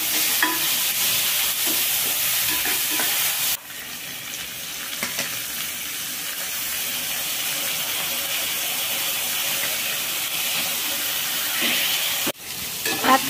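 Onions and tomatoes sizzle in a hot pan while a spoon scrapes and stirs, the frying hiss steady with a couple of brief pauses.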